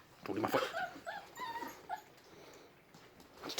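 Young puppies whimper and yip in short high bursts during play, with a person's voice talking intermittently between the cries.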